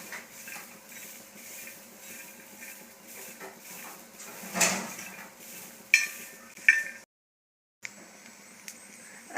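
Pigeon pea pods, chilli and garlic being dry-roasted in a kitchen pan give faint scraping and stirring sounds, with a few clinks of utensil against metal and a brief pause near the end.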